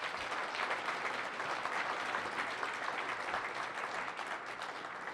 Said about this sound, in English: Yes, we should clap for that.